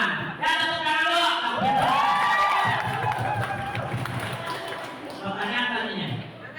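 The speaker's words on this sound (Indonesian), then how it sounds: "Ya, tepuk tangan dulu" A crowd at a school quiz competition final bursts into loud applause and cheering, with children's voices shouting over the continuous clapping.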